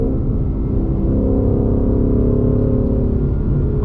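A 2020 Ford Mustang GT with a Lund 91-octane tune, its engine droning and revving steadily through paddle-shifter downshifts, a loud, close, continuous low rumble with no talk.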